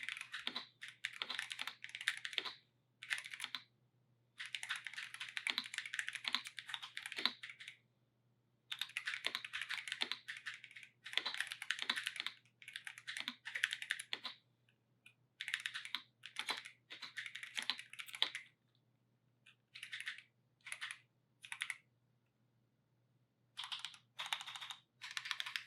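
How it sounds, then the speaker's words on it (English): Typing on a Razer BlackWidow V4 75% Pro mechanical keyboard, rapid close clacking keystrokes in bursts of a few seconds separated by brief pauses, with no talk. "we got to do a sound test"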